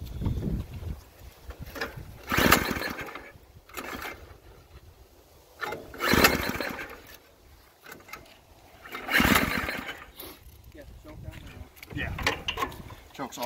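A riding lawn mower engine runs through mud in Michigan, revving in loud surges about every three to four seconds, with wind buffeting the microphone and rough mechanical rattle between bursts.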